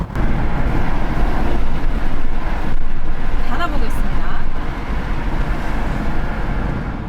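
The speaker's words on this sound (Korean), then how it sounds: "그럼 동일하게 시속 80km에서 윈도우도 내려볼게요." Kia EV4 electric car cruising at 80 km/h with a window lowered: a loud, steady roar of wind buffeting and road rumble fills the cabin throughout, easing slightly toward the end.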